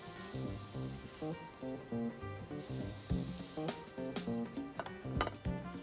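A handful of prawns sizzles on a barbecue grill with olive oil, a soft, steady hiss broken by the clink and scrape of utensils and pans.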